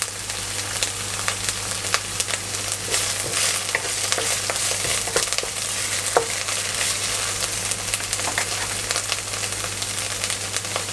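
Thai curry paste sizzles and crackles continuously in a hot pan while being stir-fried, loud and close, with scraping strokes throughout.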